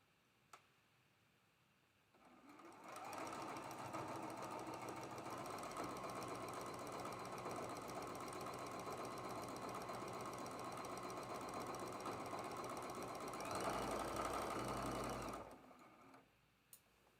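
A sewing machine stitches steadily while quilting a traditional block, a continuous close mechanical whir and rapid ticking that runs for about thirteen seconds, swells briefly near the end, then stops.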